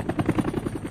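A helicopter in flight thumps with fast, rhythmic rotor beats over a steady engine roar, loud and close, alone without speech.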